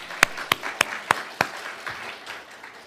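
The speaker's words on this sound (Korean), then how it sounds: "크게 한번 박수 부탁드립니다" A church congregation applauds the choir: five sharp, evenly spaced claps ring out close by, then give way to a softer, diffuse spatter of clapping that fades out.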